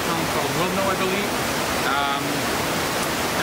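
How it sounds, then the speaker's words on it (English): A waterfall near the small town of Wilno, northwest of Ottawa, rushes in a steady, dense roar of falling water close by, with someone speaking over it. "We're gonna be shooting a waterfall that you see behind me"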